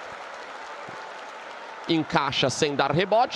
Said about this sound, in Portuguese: O torcedor do Leão aplaude a construção da jogada